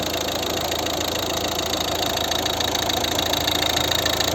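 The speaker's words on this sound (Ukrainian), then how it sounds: "Ось цей двигун." The 1.6 HDi diesel engine of a 2011 Volvo V50 idles steadily nearby, a constant low rumbling clatter with no changes in pace.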